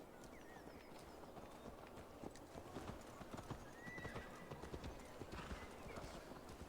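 A horse is ridden in Assassin's Creed Valhalla, with quiet, fast clip-clopping hooves, occasional whinnies, and faint game ambience, all at low volume.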